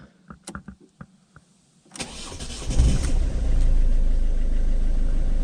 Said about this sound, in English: Let's fire this up. Well, first, neutral, fire up.